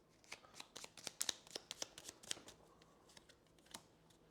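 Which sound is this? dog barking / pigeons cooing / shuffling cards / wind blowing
shuffling cards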